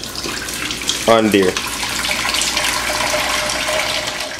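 Running tap water pours briefly and steadily into a pot of salt fish, close by, with a short spoken remark near the start.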